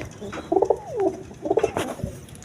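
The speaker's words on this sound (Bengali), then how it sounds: "এখানে এক প্যার সুন্দর কবুতর আছে দুইটা ডিম নিয়ে বসে রয়েছে" A pair of pigeons sitting on two eggs coo close by in two distinct rolling phrases, with a soft rustle between them.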